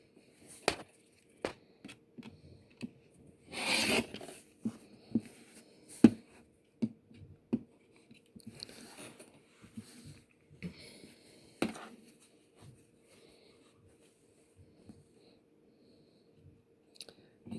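Quilting fabric cut along a marked line for half-square triangles, a scatter of sharp clicks and snips in short clusters with pauses between, close and dry, no talking.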